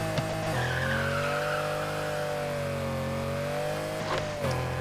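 A car in Need for Speed Heat revs hard through the gears, its engine a steady rising whine layered with tire skidding and squealing, loud and close, briefly dipping as it shifts near the end.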